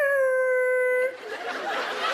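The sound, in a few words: performer imitating a fire dog howling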